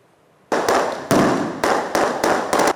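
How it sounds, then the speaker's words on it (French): Fireworks set off to celebrate the NCA group's 30th anniversary, a run of sharp, loud bangs after a quiet start, bursting in quick succession with short crackling gaps between them, close and forceful. "Des feux d'artifice pour célébrer les 30 ans du groupe NCA"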